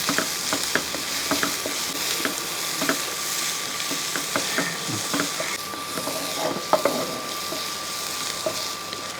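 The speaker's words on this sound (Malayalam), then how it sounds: "ലേശം ഉപ്പ് കൂടി സവാളയ്ക്കകത്തിട്ട് ഒന്ന് ഇളക്കി കൊടുക്കുക" Onions with a pinch of salt sautéing in a pan for a fish masala, a steady frying sizzle broken by frequent scraping stirs of the spoon, close and fairly loud, with no voices.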